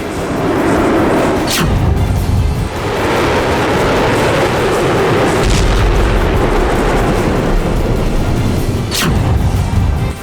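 Loud, continuous rumbling from a North Korean military live-fire artillery drill, with heavy blasts and sharp cracking booms at intervals over the ongoing roar, and no voices.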